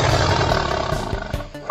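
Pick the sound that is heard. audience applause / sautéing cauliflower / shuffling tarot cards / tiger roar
tiger roar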